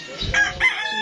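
A single rooster crows nearby, a short harsh call cut off quickly.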